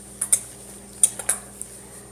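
A spoon clinks and scrapes against a bowl while mixing slime, with a few sharp, light taps and clicks scattered over a couple of seconds, close and fairly quiet.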